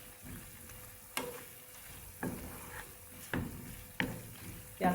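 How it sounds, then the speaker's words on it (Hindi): Goat meat frying with fried onions in a pan, a steady soft sizzle broken by several sharp scraping clatters of a spoon against the pan at irregular intervals, close and moderately loud with no talk. "प्याज डालने के बाद भी हम भून लेंगे इसको।"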